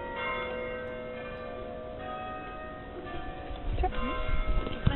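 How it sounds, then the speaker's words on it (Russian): Bells of St. Mary's church in Lübeck, Germany, ring steadily over the city with sustained, overlapping tones, a rich pealing that hangs over a low background rumble, growing slightly busier toward the end. "А наверху звонят колокола собора Святой Марии."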